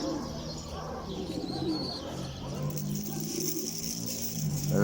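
Soft, low pigeon cooing repeats steadily, with faint chirps and light fluttering nearby against a background hum.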